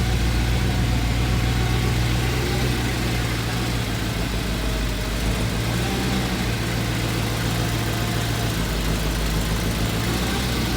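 A car engine idles steadily and loudly up close after a manifold repair, a constant low rumble with a slight rough pulse and no change in pitch throughout.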